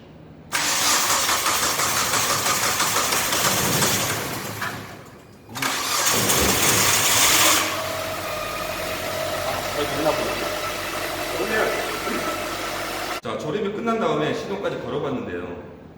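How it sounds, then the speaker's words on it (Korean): A car engine cranks and fires up after being reassembled during an electronic engine control repair class, then settles into a steady idle, loud and close, with a brief pause between start attempts and a voice heard over it. "조립이 끝났는데 한번 잘 조립이 됐는지 시동을 걸어보도록 하겠습니다."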